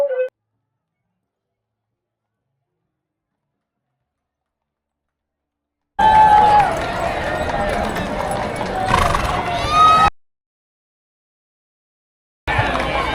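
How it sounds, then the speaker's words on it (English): Big Clydesdale horses parading through the Lilac Festival on Mackinac Island, Michigan, hooves clip-clopping steadily on the street, close and loud, with a whinny and nearby crowd chatter, cut off by a long silent gap. "check out these big old Clydesdales"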